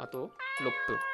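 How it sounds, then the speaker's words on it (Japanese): A cat meows in the horror game Chloe's Requiem, several short tonal mews in quick succession, close and clear, with someone speaking briefly over them. "もしかしてさっきから聞こえてた猫の声って。"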